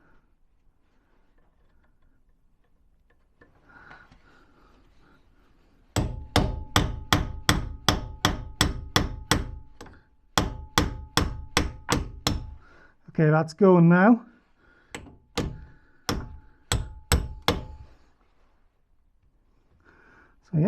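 Rapid series of sharp metallic hammer strikes in bursts, close and loud, with a brief pause and a squeaky scrape midway; a voice speaks briefly. Removing gearbox mounts and linkage on a 1989 Austin Mini.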